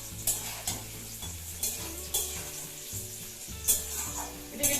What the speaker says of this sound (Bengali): লবণ ও হলুদ দিয়ে আলুটাকে ভালো করে ভেজে নেব।